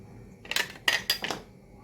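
A utensil scrapes and knocks in a pan while raw chickpea mixture ingredients are stirred together, giving a few short clattering bursts spaced apart, fairly close and moderately loud.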